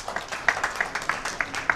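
An audience clapping to welcome a guest onto the stage at an international conference meeting in a hall, a light scattering of distinct hand claps at a loose, fairly regular rhythm, moderately near and modest in volume.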